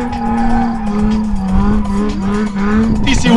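A drift car revs hard with the handbrake pulled, its engine droning and tires squealing loudly in long wavering tones during a 2014 drift event, ending with a sharp burst of noise.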